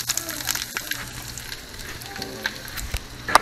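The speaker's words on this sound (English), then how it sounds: "I'm going to go ahead and add the onions to the" Onions hit browned butter in a pot for French onion soup and set off a steady close sizzle with a few stirring clicks and scrapes, and a voice is briefly audible.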